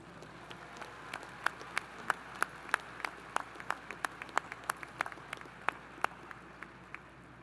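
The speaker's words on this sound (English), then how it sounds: "Graduates, let's give your family and friends a round of applause." Light, sparse clapping at a college of engineering spring commencement ceremony, a fairly quiet field of individual claps with a few sharper nearby hand claps standing out, heard alone without talk.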